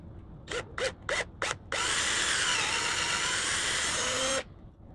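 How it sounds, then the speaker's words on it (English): A power drill drills a shallow hole in wood, giving four short quick bursts, then a steady high whine for several seconds before cutting off sharply. "I'm going to drill a shallow hole"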